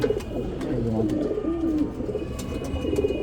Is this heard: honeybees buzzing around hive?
no